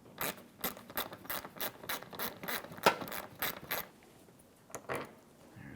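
Ratchet clicks rapidly and evenly while removing a Phillips head mounting screw from the front bumper cover of a 2016-2022 Honda HR-V, close and fairly quiet. The clicks pause briefly, then a few more follow.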